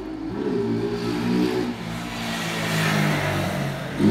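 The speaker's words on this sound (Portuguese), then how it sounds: "Vamos ligar a moto." A Honda Bross 150 motorcycle engine starts and settles into a steady mid-pitched idle with a slight rev, close and continuous, with no talking.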